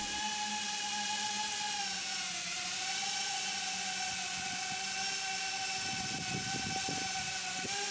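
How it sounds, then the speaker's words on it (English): A Wing delivery drone coming in overhead in hot Texas weather, bringing a Walmart order: a steady high-pitched whirring buzz of rotors that holds throughout and stays loud and close, with faint low rumbles near the end and no voices. "I hear my drone coming."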